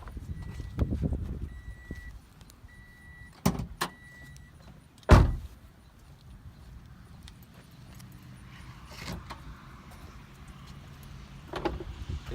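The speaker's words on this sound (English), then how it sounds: "let's go around and pop the hood" A car's hood is popped open: a sharp click, then a louder thunk a moment later, with light shuffling and jangling around them and quiet stretches in between.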